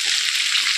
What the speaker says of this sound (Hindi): ಇದನ್ನು ಸ್ವಲ್ಪ ಚೆನ್ನಾಗಿ ಫ್ರೈ ಮಾಡ್ಕೊಳ್ಳಿ, ಬೆಳ್ಳುಳ್ಳಿ ಹಸಿಶುಂಠಿ ಪೇಸ್ಟಿನ ಹಸಿ ವಾಸನೆ ಹೋಗೋ ತನಕ